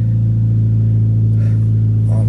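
Heard from inside a 2014 Scion FR-S, the Borla exhaust gives a loud, deep, steady drone that fills the cabin, with faint rustles on top.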